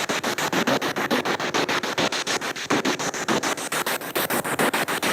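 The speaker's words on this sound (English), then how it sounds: "I can hear like a bassy voice coming through the spirit box." Spirit box static during a ghost hunt in an old police station, a steady loud hiss chopped into rapid even pulses by the radio sweep, close and continuous.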